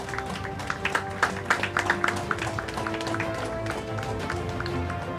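Applause from the audience at a technology quiz prize ceremony, a steady wash of clapping from a crowd filling the hall, with scattered louder individual claps near the start.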